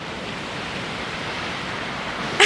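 Sea waves wash up on a beach, a constant broad rushing hiss of surf at close range with no voices, ending in a brief louder splash.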